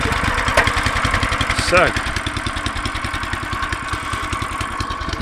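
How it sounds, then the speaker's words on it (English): A petrol cultivator's small engine starts with a choke on cold and settles into a fast, steady idle with rapid regular firing pulses, close and loud, with a brief spoken word near the start. "This one's a petrol motor, so we're going to switch it on."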